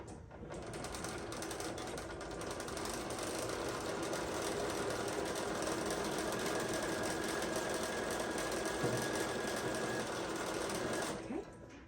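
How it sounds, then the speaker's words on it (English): A sewing machine runs steadily as it stitches down the folded sides of a fully lined apron, one continuous close whir lasting about eleven seconds before it stops. "I'm gonna stitch down those sides."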